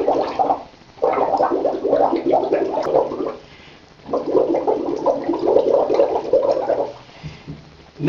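Water bubbles vigorously in a home bathtub used as a makeshift jacuzzi, two long churning bursts broken by brief quieter pauses, close and fairly loud.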